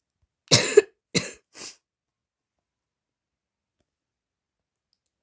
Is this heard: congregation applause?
no